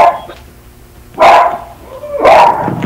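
A pet dog barks twice, loud and close, with the sharp barks about a second apart and a fainter yip just before them.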